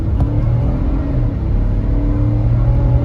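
A 2019 GMC Denali XL's 6.2-liter Vortec V8 with all-wheel drive revs hard and steadily from the cabin, a loud, continuous low rumble with a faint whir on top and no talking.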